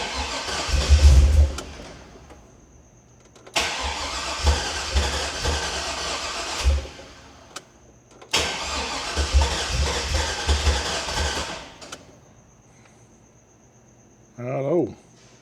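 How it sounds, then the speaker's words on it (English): An LS-swapped engine with no spark plugs fitted cranks over on the starter in several long bursts of steady churning, each separated by pauses, with a short voice heard near the end. "So crank it over. We'll crank it over and it'll do its thing"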